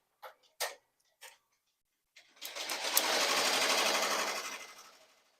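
An appliqué sewing machine gives a few sharp mechanical clicks, then a close, loud burst of rapid stitching that runs steadily before winding down and stopping.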